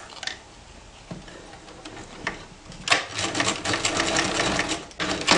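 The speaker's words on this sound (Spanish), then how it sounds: "Y ahora haremos una costura perpendicular a la que teníamos de los laterales" A sewing machine stitches a perpendicular seam across the side of a small fabric purse, its quick mechanical rattling running in short runs, then a longer steady burst, heard up close.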